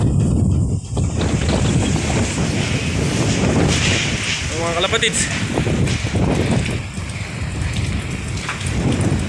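Heavy rain and gusting wind from Typhoon Paeng roar steadily throughout in Las Piñas, Metro Manila, with a person speaking loudly over the storm noise.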